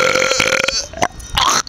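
A long, loud, rumbling burp from a contestant in a belching competition, with a brief break near the end before a final croaky push.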